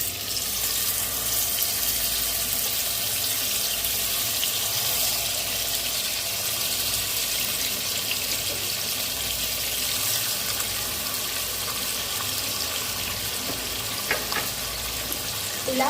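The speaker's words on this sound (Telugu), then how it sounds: "ఇప్పుడు ఇందులో మనము ఏదైతే ఈ ఫ్రై ఇందులో వేసేసుకోవచ్చు ఒక్కొక్కటి." Fish sizzling in hot oil in a pan, a steady loud crackling fry that continues evenly throughout with no talking.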